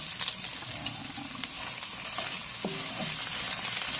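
Garlic and onions fry together in a hot pan with a steady close sizzle, broken by occasional scrapes and stirring clicks, and no voices.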